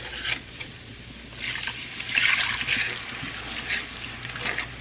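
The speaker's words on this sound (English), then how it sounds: "now I'm about to add some water." Water is added to a pan of browning, flour-dredged cube steaks, giving bursts of sizzling hiss and bubbling that swell and fade over a few seconds, fairly close, with no voices.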